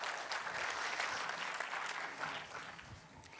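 A live audience applauds to welcome the day's candidate at a software development presentation, a full, even round of many hands clapping for a few seconds before tapering slightly at the close, with no speech over it.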